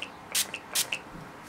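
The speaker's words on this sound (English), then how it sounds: "now I'm going to finish off this look using the Mario Badescu Rose Water Spray" Mario Badescu Rose Water face spray misted onto a face, two short sharp hissing bursts from the pump bottle, close and quiet.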